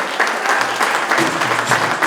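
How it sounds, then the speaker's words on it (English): An awards ceremony audience applauds in a hall, with brisk, moderately loud clapping throughout and a few voices just audible underneath. "That deserves a round of applause."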